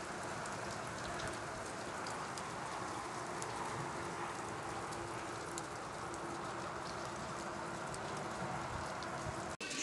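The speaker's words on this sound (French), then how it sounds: "Lundi midi, il grêle." Hail falls steadily at midday, a dense constant patter on surfaces that continues unbroken throughout at moderate level.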